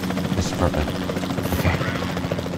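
Helicopter rotor drone in the video game Jurassic World Evolution 2, a steady buzzing hum running under a player's excited talk.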